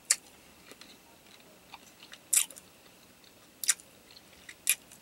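Someone bites and chews a crunchy blackberry-flavored snack up close, with a handful of sharp, separate crunches spread through otherwise quiet chewing.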